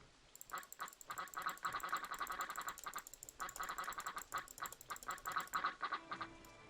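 A cartoon duck in the video game Pickle Park quacks again and again in rapid bursts when it is clicked, loud and bright over a light high-pitched game tone.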